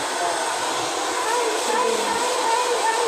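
A hair dryer blows steadily in a home, producing a constant airy whir that holds at even volume throughout, fairly close.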